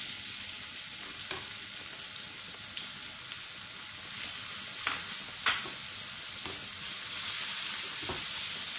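Onions frying in hot oil with cumin seeds, cinnamon pieces and curry leaves on a tawa for spicy boti, a steady close sizzle with a few sharp stirring scrapes, no talking.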